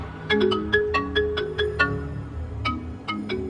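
A mobile phone ringtone rings loudly with a repeating melodic pattern of bright tones, playing clearly on its own with no voices.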